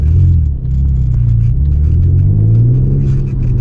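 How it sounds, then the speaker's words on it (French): An Alfa Romeo GT 3.2 Busso V6 engine idles with a deep, steady rumble close by, dipping briefly before settling back into its even throb. "Donc ici c'est la dernière évolution du V6 Alfa Romeo"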